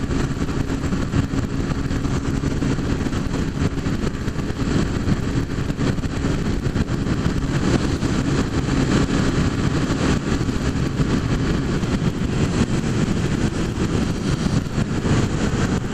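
A Honda Fan 150 motorcycle engine rumbles continuously and loudly up close, a steady throaty drone with no talking over it.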